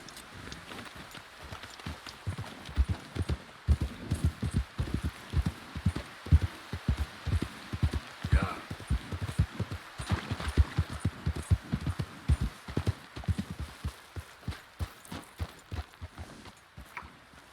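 Horse hooves clip-clopping steadily in Red Dead Redemption 2, a close, regular walking rhythm of thudding hoofbeats that continues throughout, with a faint creak partway through.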